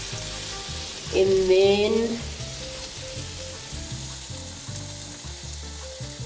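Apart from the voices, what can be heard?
frying in a pan on medium heat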